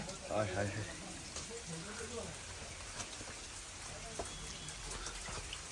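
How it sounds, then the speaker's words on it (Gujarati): Rain falls at Tiger Cave in Nainital, a soft, scattered patter of drops on surfaces that continues throughout, with people talking faintly beneath it. "વરસાદ પડે છે એટલે એકદમ જ અલગ ફીલ આવે છે એકદમ."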